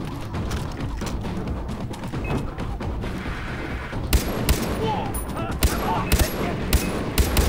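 Sniper rifle fire and other gunfire in the video game Far Cry 3, with several sharp, loud shots and bursts standing out over a dense, busy background of game noise.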